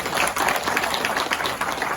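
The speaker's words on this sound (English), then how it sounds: "Give yourself a round of applause." Brief burst of audience applause at a live seminar, moderately loud, dense clapping from a small crowd with no clear talk over it.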